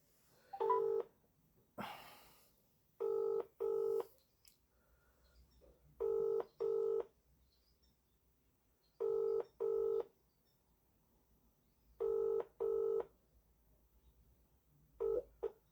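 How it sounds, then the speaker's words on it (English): Phone call being placed to a mobile: a quick burst of keypad tones, then a steady ringback pattern of paired rings repeating every three seconds or so, clear and alone with no talking. "ringing up Christopher Browell to see if he's going to answer the call"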